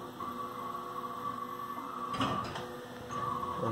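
A Haas TM1 CNC mill runs with a steady electrical hum and whine, its hand wheels turning, with a brief mechanical rattle midway and the motor tone rising again near the end.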